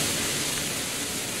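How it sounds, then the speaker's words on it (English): Smoke grenade hisses steadily in Counter-Strike: Global Offensive, a loud, even, broadband rush that stays constant through the short burst with no other sounds. "Smoke!"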